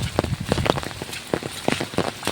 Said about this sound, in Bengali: বৃষ্টি পুরো চলতে আছে, মানে একটুও বন্ধ হচ্ছে না